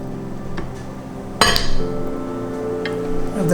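Spoon scraping and clinking against a pan while sauce goes into the bottom of a vegan lasagna, a sharp metallic knock at mid-clip followed by softer scrapes and taps, close and fairly loud over quiet room tone.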